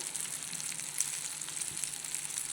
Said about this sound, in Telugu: ఫిష్ చూసారా కొంచెం లైట్గా ఆయిల్ వేద్దాం